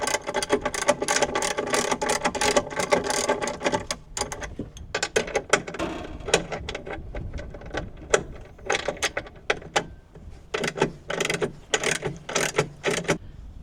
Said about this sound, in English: Start loosening up the bolts here for the battery.